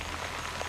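Steady rain hissing down onto a surface, a dense continuous wash of drops with no voices.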